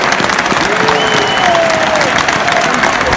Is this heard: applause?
yes